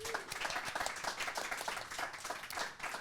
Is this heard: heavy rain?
no